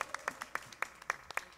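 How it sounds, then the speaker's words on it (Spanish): A television talk-show audience claps for a guest musician from Cienfuegos, Cuba: a brief, fairly quiet burst of crisp, evenly spaced claps with no voices over it. "Un aplauso para Julio."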